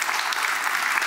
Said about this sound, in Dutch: Applaus voor Rashid